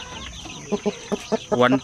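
Forty-five-day-old pure Basilan native chicks cluck in a quick series of short, close calls, with a person speaking over them.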